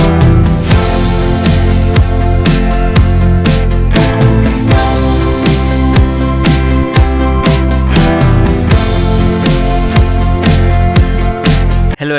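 Full indie pop arrangement with steady loud drums, bass and layered synths and guitars playing continuously with no voices.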